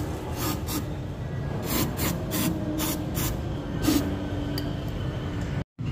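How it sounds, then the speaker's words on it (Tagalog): Brake cleaner sprayed from an aerosol can onto the intake manifold of an Isuzu Crosswind during carbon cleaning, a steady hissing rush with several brief louder bursts, close up and continuous for about six seconds before a sudden cutoff. "i-spray na lang po natin ang ating brake cleaner"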